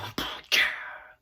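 A beatboxer's mouth makes a short percussive click followed by a breathy, exhale-like 'cha' that hisses and fades over about a second, close and alone, a voice imitating a drum sound for a song.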